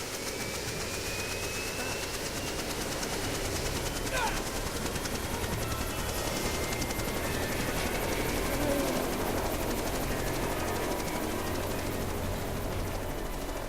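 A helicopter in the Jurassic Park video game drones continuously under steady noise, with brief sharp bursts and faint tonal sweeps mixed in, and no clear voices.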